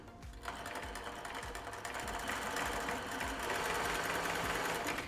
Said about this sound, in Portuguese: E aí eu vou dar início aqui à minha costura.